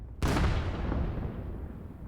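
A grenade blows up in the first-person shooter Vail: a sudden heavy boom after a brief silence, followed by a long rumbling low tail that slowly fades.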